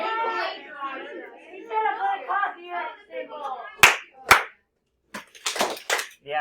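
Two sharp hand claps ring out in a classroom right after a teacher speaks, loud and close, followed by a few more scattered claps and student chatter.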